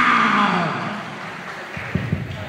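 A voice imitates a wildcat crying during a college fun stage show, a loud, harsh, strained yowl that slides downward and fades, followed by a few faint knocks.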